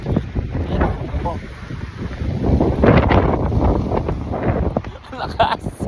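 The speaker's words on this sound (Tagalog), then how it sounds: "ang lakas ng hangin sa labas" Gusty wind buffets the microphone in loud, rumbling bursts while a person talks over it.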